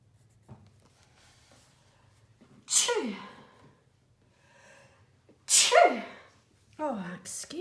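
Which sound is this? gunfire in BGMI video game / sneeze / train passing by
sneeze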